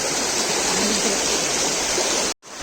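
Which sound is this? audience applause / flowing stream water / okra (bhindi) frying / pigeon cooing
flowing stream water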